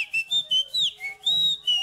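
A person whistles an imitation of a sparrow's song, a quick series of bright, sliding chirped notes with short gaps, close and clear with no talking over it.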